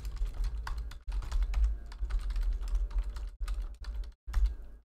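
Fast, continuous typing on a computer keyboard, with dense close-up key clicks broken by a few brief pauses and no voices.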